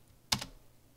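A single quick, faint clatter of computer keyboard keys typing a terminal command, a double click burst in an otherwise quiet room.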